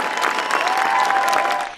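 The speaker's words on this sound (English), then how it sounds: "Bush's father, George H.W. Bush, stood in this heartfelt moment for the cheering crowd." A crowd at a presidential center dedication cheering and applauding, dense loud clapping mixed with cheers, sustained and fairly close before tapering at the end.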